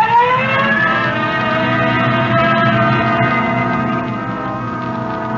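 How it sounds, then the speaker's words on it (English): A loud police siren sounds continuously on a Code 3 run in an old radio drama, its pitch sliding upward at the start and then holding as a sustained wail over engine noise. "Code 3, red light and siren."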